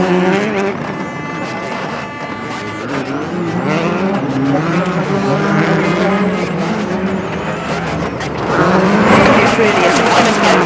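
A rally car at speed on a 2004 WRC Wales GB stage, its engine roaring loud and steady, revs shifting and tires working, under continuous commentary, with a louder surge near the end.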